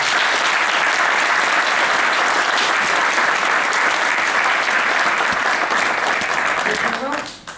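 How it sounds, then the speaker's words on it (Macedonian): Loud, sustained applause from an audience at a public panel discussion on organ donation in Kavadarci, steady dense clapping throughout before fading at the end. "Ве молам еден огромен аплауз."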